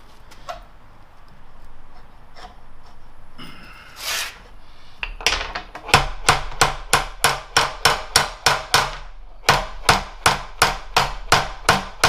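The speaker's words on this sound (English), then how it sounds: "It's actually working quite well with that plastic hammer." Plastic hammer striking a bent steel bar, faint scraping and taps first, then a long run of loud, close, evenly spaced blows with a short pause midway.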